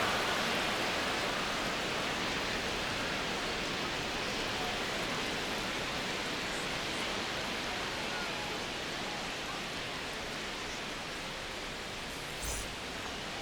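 Steady rain falls on a ballpark during a Dodgers–Cubs game in MLB The Show 26, a dense, even wash of hiss that runs unbroken throughout with no talk.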